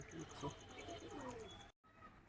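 Pigeons of the Mangalgiri bloodline from Andhra Pradesh coo softly in a home loft, with faint repeated calls and chirps beneath a voice. The sound cuts out briefly near the end.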